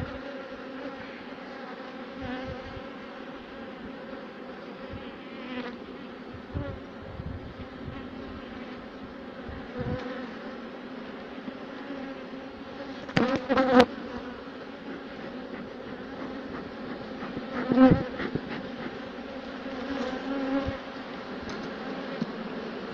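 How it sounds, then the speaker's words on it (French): Honeybees swarm and buzz around an open, healthy hive while building wax comb frames. A dense, steady drone continues throughout, close and fairly loud, with a few brief louder swells as bees pass near. "Ça c'est une ruche en pleine santé."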